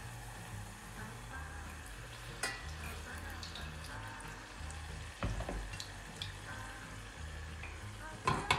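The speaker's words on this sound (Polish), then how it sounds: "Smażymy." Continuous crackling sizzle of pastry (keto faworki) frying in hot lard, with occasional sharper pops and spatters throughout.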